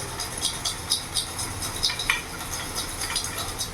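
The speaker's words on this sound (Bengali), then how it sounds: "এইভাবে ঝাঁঝরা নিয়ে এইভাবে ঘোরাবে" A slotted ladle is swirled and tapped over a wok of hot oil while making boondi, giving rhythmic metallic scraping and light clinks over a soft sizzle, close and without talk.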